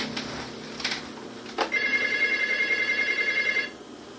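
A small telephone rings in a steady electronic trill for about two seconds, clear and close in a quiet room, after a few brief knocks and clatters.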